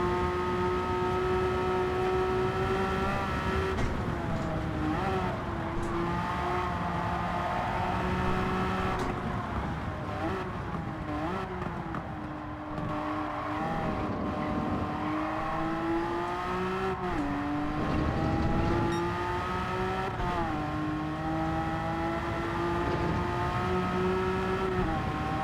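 A 2001 Porsche 911 GT3 (996) race car drones at steady high revs throughout, its engine note rising and dipping through gear changes, loud and close as if from inside the cabin, with no talking.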